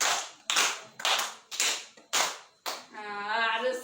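Schoolchildren in an elementary classroom in Pantar Barat, Alor, clap together in unison, six loud sharp claps in a steady rhythm about half a second apart, followed by voices.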